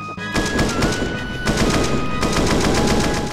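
Rapid automatic gunfire from Counter-Strike: Global Offensive, played at double speed, rattles in dense, loud bursts almost without pause, with only a brief gap near the start.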